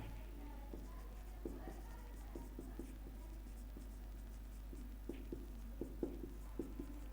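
Chalk or marker tapping and scratching in short strokes as chemistry formulas are written on a classroom board, a steady run of small ticks under a constant low hum.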